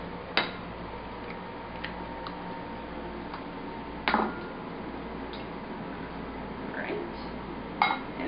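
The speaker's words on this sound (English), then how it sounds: "We're going to crack our eggs" Eggs cracked one at a time against a bowl while mixing turkey meatloaf, three sharp, close cracks spaced a few seconds apart over a low, steady kitchen background.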